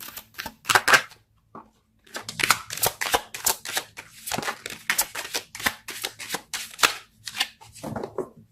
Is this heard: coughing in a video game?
no